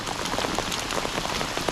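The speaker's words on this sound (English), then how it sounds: "So anyone else that's not in the woods is in rain like that." Steady rain falls outdoors by the River Thames during a fishing match, a dense, continuous patter of drops hitting surfaces nearby with no voices.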